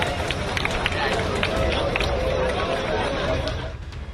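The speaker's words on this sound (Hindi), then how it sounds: "जिसकी ओपन सेल शुरू हुई तो उसे खरीदने के लिए ग्राहकों की भीड़ टूट पड़ी" A crowd of customers rushes into a store at Delhi's Saket Mall for the opening sale of the Apple iPhone 16: a dense, busy babble of voices with the patter of many running feet, continuous throughout before easing off at the end.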